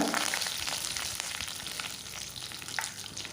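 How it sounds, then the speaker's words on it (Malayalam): Hot oil sizzles steadily with scattered sharp pops and crackles of mustard seeds sputtering, close and fairly loud, no voices. "ഇനി അതിലേക്ക് കടുക് ഇട്ട് കൊടുക്കാം കടുക് പൊട്ടി വന്ന സമയത്ത്"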